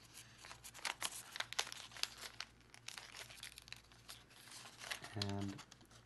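Paper being folded and creased for an origami flapping dragon, soft crinkles and sharp crisp rustles close by, with a person talking quietly over it.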